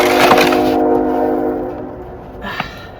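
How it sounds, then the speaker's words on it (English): A train passes with a sustained horn blast that fades out, leaving rumbling rail noise and a brief clank near the end. "I love the sound of the train."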